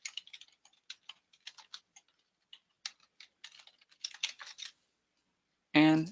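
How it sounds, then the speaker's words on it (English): Email address being typed on a computer keyboard, a quiet, close run of irregular key clicks over several seconds, ending with a short burst of voice. "here, I'm going to type in my email address"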